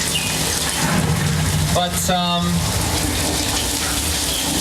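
Steady rain pours down in the flash flood effect on the Universal Hollywood backlot tour, a broad continuous wash of falling water while someone speaks briefly over it.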